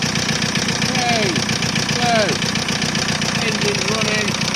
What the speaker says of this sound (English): so, engine's running, we've had it running about 5 or 10 minutes